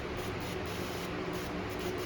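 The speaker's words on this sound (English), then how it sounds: "I got a good spray pattern now." A steady, faint hiss of a cleaned fuel injector spraying fuel from a 1959 Ford wagon, continuous and even throughout with no other sounds.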